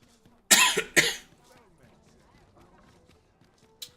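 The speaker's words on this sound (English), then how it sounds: "Sorry, this cough is so weak" Two sharp, close coughs come in quick succession, then near silence with a faint click near the end.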